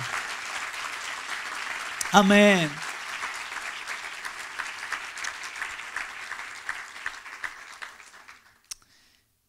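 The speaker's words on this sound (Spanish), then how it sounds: "Dele otro aplauso al Señor." A church congregation claps steadily for several seconds, fading out toward the end, with a voice calling out briefly near the start.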